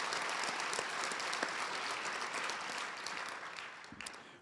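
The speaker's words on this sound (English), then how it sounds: "I think you all deserve to give yourselves a big round of applause" A civic audience at a city address applauds, a dense, even wash of clapping from many hands that holds steady and then begins to taper off at the end.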